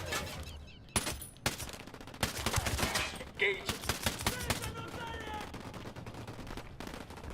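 Rapid bursts of TSS958 rifle fire in Ghost Recon Wildlands ring out as sharp, loud cracks, several shots in quick succession with gaps between volleys, over a busy game background.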